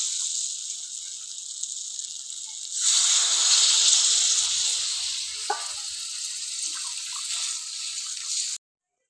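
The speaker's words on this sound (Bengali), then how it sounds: "এবার আমি জল দিয়ে দেবো" Water poured into a pan of sizzling fried potato and soya chunk curry, a sudden loud hiss and bubbling that swells, then settles into a steady simmering sizzle before cutting off.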